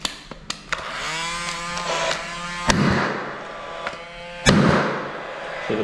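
A pneumatic nail gun fires pins through skirting board into a wall, giving several sharp, loud snaps spread unevenly over a few seconds, two of them especially strong, with a whirring hiss between shots.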